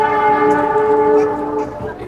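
A passing train sounds a sustained horn-like chord, loud and steady for about a second and a half before thinning out, with a faint rumble and some background voices beneath it.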